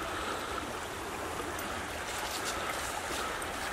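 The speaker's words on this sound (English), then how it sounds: "little shots of the creek flowing through here" A small creek swollen slightly after rain flows over a gravel bed at a national fish hatchery, giving a steady broadband rushing and gurgling wash, fairly close and continuous with no voices.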